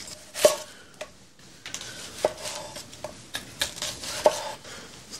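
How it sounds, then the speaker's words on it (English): A knife slices a red onion on a board in a home kitchen, with a few sharp, separate cuts spread unevenly over several seconds, close up, alongside faint kitchen clatter and no talking. "And then I'll just slice the red onion right in."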